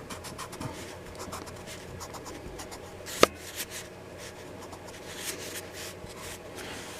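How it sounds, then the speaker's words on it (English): Pencil drawing being erased on paper, with soft continuous rubbing and brushing strokes, close and fairly quiet, plus one sharp tap partway through; no speech. "And then let's erase here."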